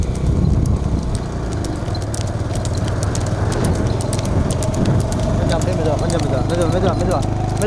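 Cattle trotting along a road, hooves clopping in a steady rhythm among a loud, continuous outdoor din, with people calling out and talking over it throughout.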